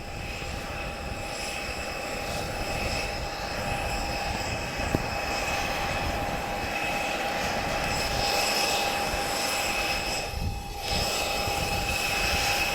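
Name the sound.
aircraft touching down at an airshow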